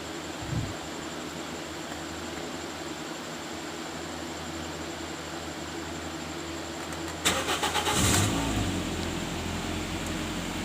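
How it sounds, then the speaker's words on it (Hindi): A 2017 Toyota Corolla GLi with an intermittent starting fault cranks briefly and catches, then settles into a steady idle, heard close up over a constant background hiss. "ये दूसरी दफ़ा भी स्टार्ट किया गाड़ी को तो गाड़ी से ही स्टार्ट हो गई है"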